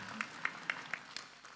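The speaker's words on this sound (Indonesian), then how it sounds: "tepuk tangan buat Bu Samrotul Jannah." An audience at a religious gathering gives a brief round of applause, heard as about five or six distinct claps at a steady rhythm. The clapping is faint and somewhat distant over a noisy background.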